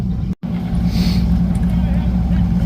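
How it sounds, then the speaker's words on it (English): A 1990 Chevrolet S10 with a twin-turbo LS engine and turbo 400 transmission idles loudly with a steady low rumble, heard up close at an ice drag race with someone talking over it. "this is my 1990 S10. It is a twin turbo LS, turbo 400"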